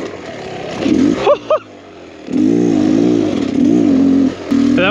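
A Beta X Trainer dirt bike rides past bushes off-road, its engine buzzing loudly up close with rising and falling revs, a brief drop and a couple of sharp blips before it pulls steadily again.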